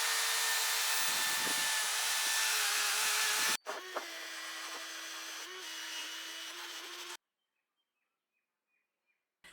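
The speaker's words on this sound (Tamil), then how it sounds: "அந்த ஒயர் வீல் வச்சு தான் வந்து க்ளீன் பண்ண போகிறோம்" A power-driven wire wheel cleans the rusty flywheel and crankcase of an old air compressor, a loud, steady whirring grind with some scraping bursts that runs for about seven seconds, then cuts off into near silence.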